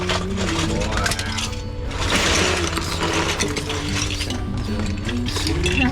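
Anchor raised aboard a sailing boat, with a steady mechanical clatter and ratcheting of the windlass and chain running continuously at close range and fairly loud.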